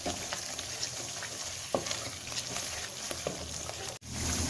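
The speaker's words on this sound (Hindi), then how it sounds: "इसको तेज़ फ्लेम पे थोड़ी देर के लिए 2 से 3 मिनट के लिए भूनेंगे" Butter chicken masala fries on a high flame, a steady close sizzle with spoon scrapes and stirring clicks, one sharp knock near the end.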